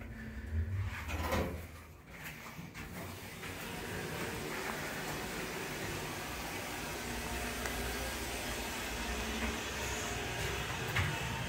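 Otis HydroFit hydraulic elevator door at a shopping mall sliding shut: a soft thud and a rumble near the start, then a quiet, steady hum of the cab.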